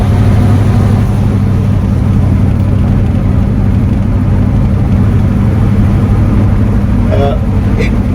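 A 1974 Cadillac Superior hearse cruises along, its engine a loud, steady low drone mixed with continuous road and cabin rumble, heard from inside the car with no letup.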